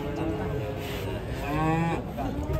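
A bull lets out a long, low moo nearby, steady and drawn out with a slight rise toward the end.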